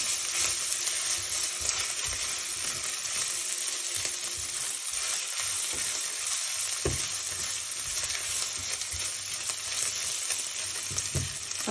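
Fresh turmeric and ginger stirred into a hot frying pan, a steady broadband sizzle running throughout with occasional soft scrapes and a couple of sharp utensil taps against the pan.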